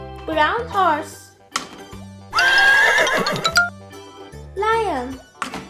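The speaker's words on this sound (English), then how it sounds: "Brown horse," A toy horse, brown, gives out a loud recorded whinny in the middle, with a looping jingle underneath and a child-like voice speaking before and after it, all close up.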